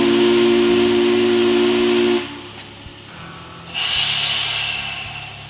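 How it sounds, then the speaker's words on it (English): A loud steam locomotive whistle blows in two long blasts separated by a brief pause, with hissing steam underneath. "pulled the whistle cord twice, indicating we were about to move ahead"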